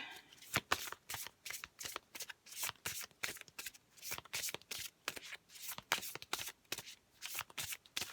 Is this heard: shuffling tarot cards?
yes